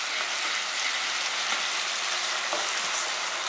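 Ginger garlic paste frying in a pan for a ridge gourd masala curry, a steady fine crackling sizzle at moderate volume with faint stirring taps and no talking.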